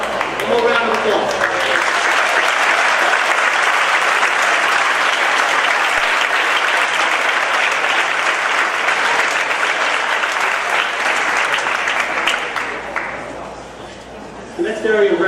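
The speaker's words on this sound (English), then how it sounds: "One more round of applause." A large audience at a school district opening ceremony claps in a long, dense, steady round of applause that tapers near the end, with a voice faintly heard as it fades.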